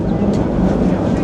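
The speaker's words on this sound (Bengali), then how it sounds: "আমরা এখন ট্রেনে করে যাচ্ছি জেমস পার্ক" A London Underground metro train rumbles loudly and continuously from inside the carriage, a dense low roar with steady rattling and no clear breaks.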